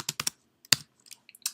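Close, crisp keystrokes on a computer keyboard, a quick burst of clicks followed by scattered single taps and a final short flurry, with no talking.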